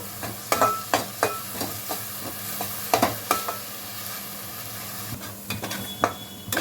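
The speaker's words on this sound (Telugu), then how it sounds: "ఆనియన్ పేస్ట్ పచ్చి వాసన పోయే వరకు వేయించుకోవాలి" Onion paste and ginger-garlic paste frying in oil for a chicken curry, a low constant sizzle broken by regular sharp stirring scrapes and knocks against the pan, close and steady with no speech.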